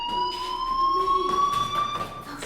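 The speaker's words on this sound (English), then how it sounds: "do you hear that fire alarm?" Fire alarm sounding in the video game Life is Strange: a steady, shrill electronic tone held continuously, with faint background noise underneath.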